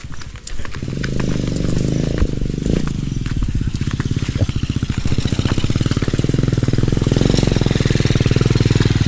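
A habal-habal motorcycle taxi engine running nearby, a loud steady chugging putter that holds strong and continuous throughout, with a faint voice briefly under it.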